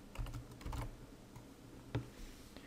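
Keystrokes on a computer keyboard while a Wi-Fi network name is typed into a Zyxel Keenetic GIGA III router's settings; irregular clusters of close, soft clicks with brief pauses and one sharper tap near the end, no voices.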